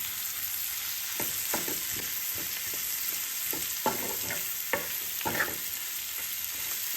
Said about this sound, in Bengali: হালকা সটে করছি আমি, আমার এটা কোনো ডিপ ফ্রাই নেই